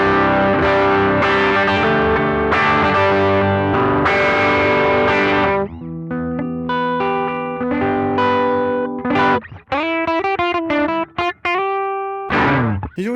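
An electric guitar plays through a BOSS FBM-1 '59 Bassman amp-modeling pedal, first strummed chords with a slightly crunchy overdriven tone, then picked single notes and short phrases, loud and close.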